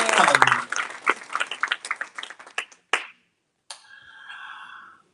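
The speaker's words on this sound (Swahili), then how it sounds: "Pigie Jehova makofi ya shangwe" A church congregation bursts into rapid, dense clapping and applause that thins into scattered claps over a few seconds, followed by a brief pause and a voice.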